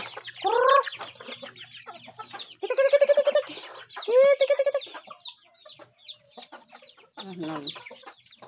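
Several chickens cluck and squawk nearby in short bursts, with softer clucking between calls and faint talking in the background.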